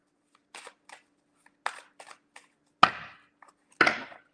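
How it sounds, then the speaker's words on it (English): Tarot cards are shuffled in a few quick bursts, crisp papery riffles and slaps spaced irregularly, close and alone in a quiet room. "That's a small shuffle"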